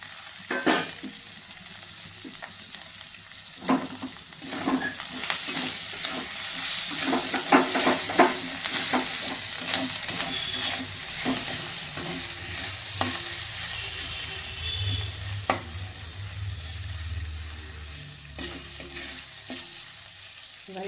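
Chopped tomatoes sizzle and fry in a kadai for fresh green pea ghugni, with steady hissing broken by repeated scraping strokes of a spatula stirring close by; no one speaks.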